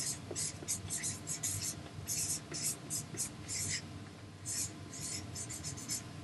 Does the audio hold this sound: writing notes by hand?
yes